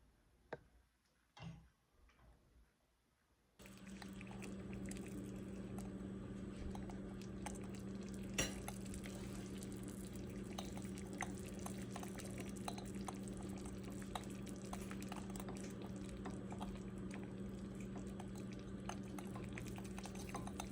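A calendula hand salve of melted beeswax and oil is stirred in a container, making a steady soft ticking and clinking with faint liquid swishing, close by and quiet, after a few light knocks at the start.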